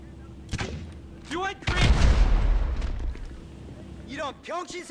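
Grenade blasts in GTA 5 Online: a long, loud rumbling explosion swells and fades over a couple of seconds, with sharper pops before and after, while people talk over the action.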